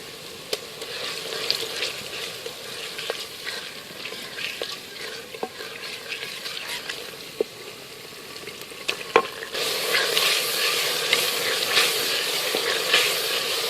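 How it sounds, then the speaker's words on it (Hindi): Steady sizzling of garlic frying with onions in a clay pot, with occasional clinks and scrapes of stirring; the sizzle grows louder toward the end. "लहसुन को 2 मिनट तक भूनने के बाद"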